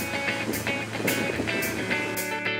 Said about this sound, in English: Water's really moving.